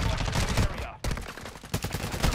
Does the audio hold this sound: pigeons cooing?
no